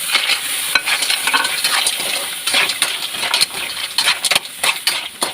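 Mussels go into a pan of sautéed garlic and onion and sizzle loudly and steadily up close, with stirring clatter and metallic clinks running through the frying.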